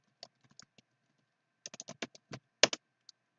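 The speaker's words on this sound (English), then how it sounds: "Hang on a moment here, typing this URL." Someone types a URL on a computer keyboard, giving a few scattered keystrokes and then a quick burst of clicky presses, close and clear with no talking.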